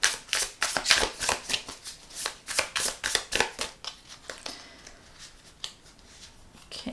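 A deck of tarot cards is shuffled by hand in quick riffling bursts, a rapid rhythm of crisp slaps that slows and softens toward the end, close and clear with no talking.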